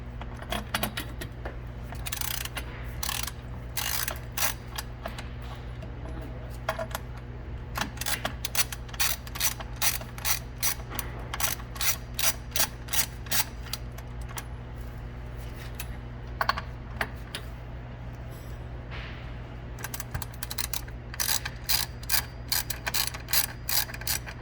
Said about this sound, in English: we can loosen the axle nuts and pull the rest out